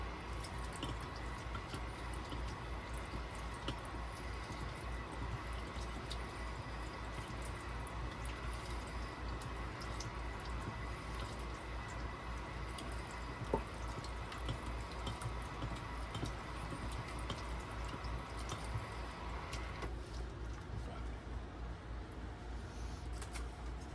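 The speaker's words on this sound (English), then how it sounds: "now we're gonna go to some running water" Steady, continuous stream of water running from a tap, constant and close, with no other sounds.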